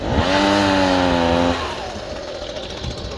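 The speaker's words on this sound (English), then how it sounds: "Here's Kyle with the Husqvarna 125 small handheld" A Husqvarna 125B small handheld gas leaf blower runs loudly nearby with a high, buzzing two-stroke engine whine that holds steady, then drops in pitch as the throttle eases, leaving a lower idle with wind noise.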